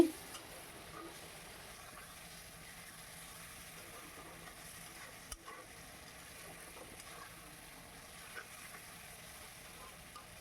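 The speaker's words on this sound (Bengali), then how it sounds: "দিয়ে আবারও ভালো করে নেড়ে চেড়ে নিচ্ছি" Chicken bhuna with tomato paste fries in a pan while being stirred, a faint, even sizzle running throughout with occasional small scrape and clink accents from the spoon, quiet and close, no talking.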